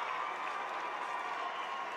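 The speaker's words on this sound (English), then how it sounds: "To a nice round of applause, basically by both schools." An audience at a high school boys' basketball state tournament game claps in a steady, dense wash of applause, moderately distant and sustained for the whole short stretch.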